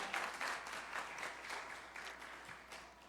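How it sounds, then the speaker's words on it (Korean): A church congregation applauds to congratulate graduating students at a Sunday evening service, a broad sustained patter of many hands clapping, fairly quiet and distant, with gentle swells as the clapping continues and tapers. "축하 박수 우리 힘차게 다시 한번 하겠습니다"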